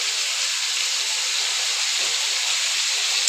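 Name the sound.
potatoes frying in hot oil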